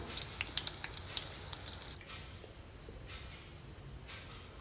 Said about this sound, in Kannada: ಇವಾಗ ಬಿಸಿ ಆದ ಮೇಲೆ ಗ್ಯಾಸ್ ಲೋ ಫ್ಲೇಮಲ್ಲಿ ಇಟ್ಟು ಕಲ್ಕಲ್ ಕಿಡಿಯೋ ಫ್ರೈ ಮಾಡ್ತೀನಿ